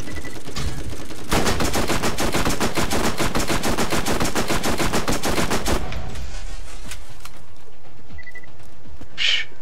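Submachine gun fire from the Borderlands video game: a dense, rapid burst of shots lasting several seconds, loud and close, then cutting off into quieter game ambience with a couple of faint beeps.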